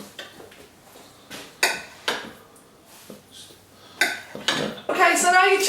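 Knife chopping diced chicken and leeks on a cutting board in a home kitchen, several sharp uneven taps close by, ending in a denser burst of cutting.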